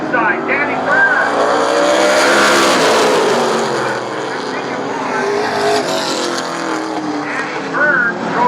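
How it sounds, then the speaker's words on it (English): Super late model race cars at Laird Raceway roar past on a dirt track in a continuous, loud engine drone that swells and fades, with a voice faintly underneath. "Danny Byrne drove right by the pit on the curve"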